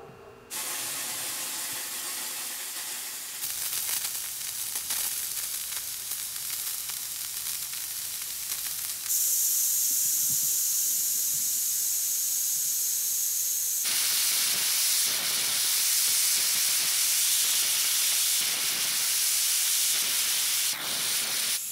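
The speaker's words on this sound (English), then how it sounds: "before the compressor lost its pressure, all the sprinklers were just blowing air" Sprinkler heads in an irrigation zone blasting out water and air under compressor pressure during system winterizing, a loud continuous broadband hissing spray that shifts in intensity partway through, with no voices.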